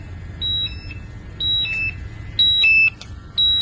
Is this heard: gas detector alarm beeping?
yes